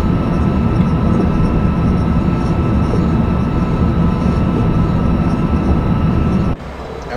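A train in the OpenRails simulator rumbles loudly and steadily along the track, a dense continuous roar of wheels and engine that cuts off abruptly near the end, leaving quieter background.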